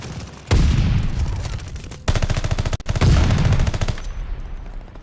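Bursts of rapid Bren machine gun fire in the shooter game Call of Duty Vanguard, loud and close, in three sustained volleys separated by brief pauses.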